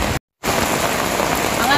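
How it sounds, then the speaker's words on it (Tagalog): Heavy rain pours steadily on a wet afternoon in Pampanga, a dense, loud hiss that fills the clip apart from a brief silent gap near the start. "Ayan po yung ulan, ang lakas."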